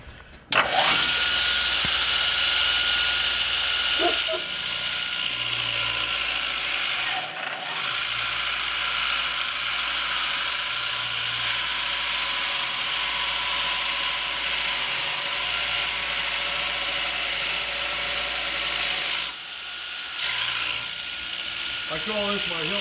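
A surface grinder removes hammer marks from a forged knife blade, a loud steady high-pitched abrasive whine that runs continuously for over twenty seconds, broken by brief pauses as the blade is lifted.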